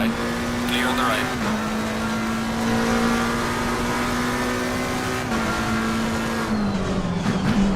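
A race car at Silverstone in a VR racing sim drones loudly with a steady engine note that shifts pitch a few times, while someone talks over it.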